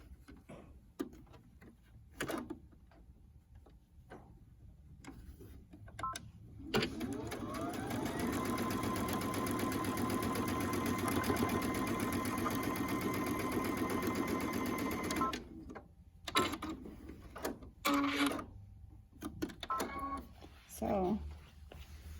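A sewing machine stitches lines across a quilt block, running in one steady, close rattling burst of about eight seconds, with quieter handling noises and occasional talk before and after.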